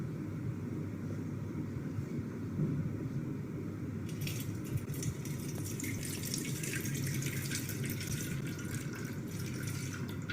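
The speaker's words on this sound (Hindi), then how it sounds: "बर्तन के अंदर इसको पानी के साथ धोएंगे। थोड़ा सा पानी इनके ऊपर चलाएंगे हम।" Tap water runs over oily dishes in a sink; a low steady hum comes first, then the bright hissing gush of the water starts partway through and continues to the end.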